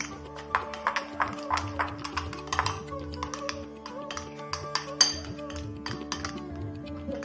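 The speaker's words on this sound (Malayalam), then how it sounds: "മിൽക്ക് ക്രീം കൂടി ചേർത്ത് നല്ലതുപോലെ ഈ ബട്ടർ ഇങ്ങനെ ഇളക്കി യോജിപ്പിക്കാം." A spoon stirs butter and milk cream together in a bowl, making irregular, close, light clinks and taps against the bowl over soft, steady background music.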